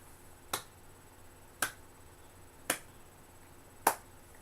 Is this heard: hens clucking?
no